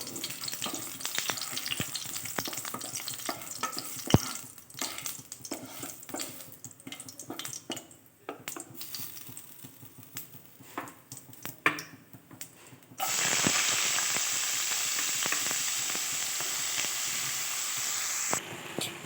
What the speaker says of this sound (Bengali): ফোড়নটা একটু নেড়ে ছেড়ে ভাজা হয়ে এলে কোচানো লাউটাকেও আমি এর মধ্যে দিয়ে দেবো